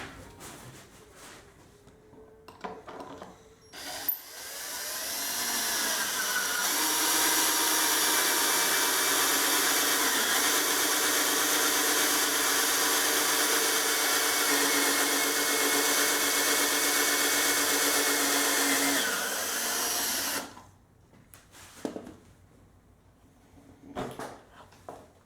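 A power drill bores a series of holes in wood with a jig for a roll-top bread box, one long sustained whine running steady and loud for about fifteen seconds, with quieter shop clatter before and after.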